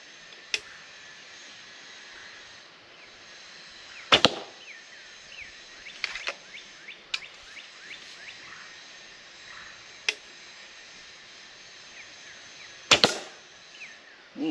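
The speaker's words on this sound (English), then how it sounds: "Just draw back and shoot and see what this little bow does." Arrows loosed from a short, light Deerseeker 54 longbow, heard as several sharp separate snaps and thwacks over steady outdoor background noise with faint bird calls, the loudest strikes near 4 and 13 seconds.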